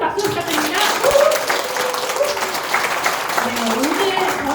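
An audience at a corporate presentation applauds a speaker, steady dense clapping throughout, with a host's voice talking over it.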